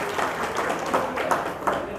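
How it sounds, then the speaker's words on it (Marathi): A crowd at a satsang applauds to welcome guests from Sambhajinagar, giving a soft, steady patter of many hands with a few sharper claps standing out. "सर्वांनी टाळ्या वाजवून त्यांचं स्वागत करा."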